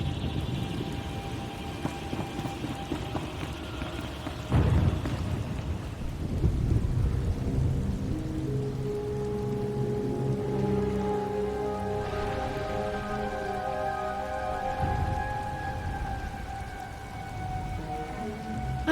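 Steady heavy rain with rolling thunder in the video game Star Wars: The Old Republic, Knights of the Eternal Throne, low booms swelling and fading over a constant wash of downpour.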